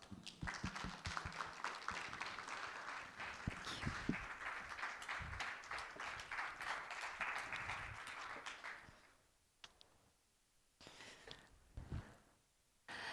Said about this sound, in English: Can we please welcome Julia and Charan with a round of applause?